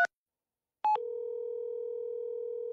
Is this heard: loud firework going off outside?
no